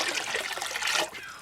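Water pours and splashes into a wastewater bucket, a continuous close gush that thins toward a trickle at the end.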